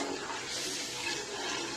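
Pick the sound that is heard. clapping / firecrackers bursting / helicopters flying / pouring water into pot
pouring water into pot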